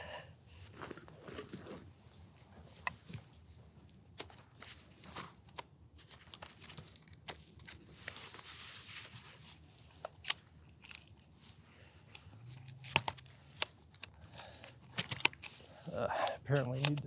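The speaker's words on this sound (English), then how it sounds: "Apparently I need to clean my tripod after the dust of Utah. Things are a little crunchy." Dusty tripod legs, gritty after a trip through Utah, crunch and scrape in a run of short, sharp crackles while being adjusted outdoors, close and fairly quiet, with soft handling noise and brief talk nearby.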